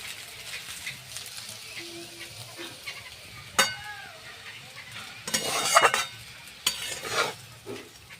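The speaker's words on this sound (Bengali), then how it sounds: "আমি হালকা করে সবজির সাথে মিশিয়ে নেব" Chow mein and vegetables are stirred in a pan with a spatula, giving scraping, clinking strokes over a soft sizzle, close and clear with no talking.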